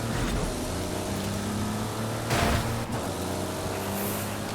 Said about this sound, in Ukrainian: Сама убога машина четвертого уровня.